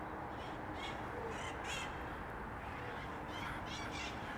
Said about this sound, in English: Oh, look, I hear some parrots.